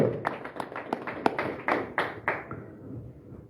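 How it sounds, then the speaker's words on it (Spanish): Worshippers in a Spanish-language church service clap their hands in praise, producing a few distinct, evenly spaced claps that fade out after about two and a half seconds, fairly close and moderately quiet. "Ofréndale palmas al Señor"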